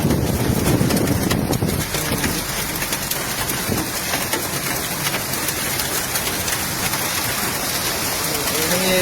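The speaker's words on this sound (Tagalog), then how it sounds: "Ayun ang yelo." A hailstorm in Bocaue, Bulacan brings heavy rain drumming loudly and continuously on surfaces, dense and close, with hard pelting impacts and a voice briefly audible early on.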